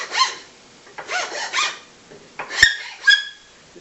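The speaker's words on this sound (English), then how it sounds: "I'm going to just chase them with a 1/8 inch file" A 1/8 inch file rasps over wood clamped in a tail vise, several short scraping strokes in a quiet room with a small click partway through.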